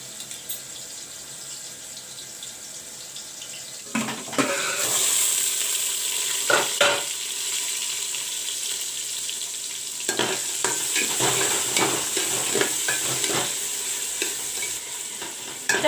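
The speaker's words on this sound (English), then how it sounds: "We'll let the tomatoes cook," Tomatoes fry with browned onions in a covered pan, a steady hiss and sizzle, with several clattering bursts where the lid or a utensil is moved. The sound is close and moderately loud, with no talking.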